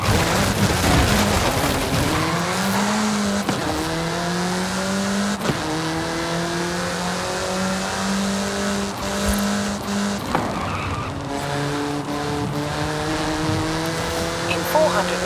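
Car engine in the Forza Horizon racing game, driving at speed. The note drones and shifts steadily through rising gear pulls. A voice speaks over it, and an occasional tire squeal cuts in.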